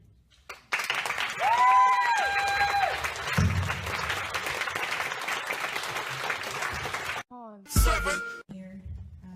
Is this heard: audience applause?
yes